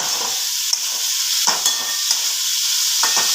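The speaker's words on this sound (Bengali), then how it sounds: "এবার আর একটু ভালোভাবে মিশিয়ে নেব" Egg curry with a pinch of sugar is stirred in a hot pan, a steady sizzle under a few soft scraping strokes of the spoon, close and even.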